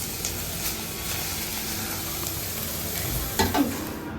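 Finely cut vegetables fry in a pan with a steady soft sizzle and hiss, a brief louder scrape of stirring near the end, faint and close with no voices.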